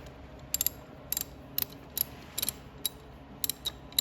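Ratchet wrench clicking in short bursts while tightening bolts on a John Deere Gator FD620D engine during a rebuild, close and crisp, with about ten separate ratcheting pulls spread evenly and no talk.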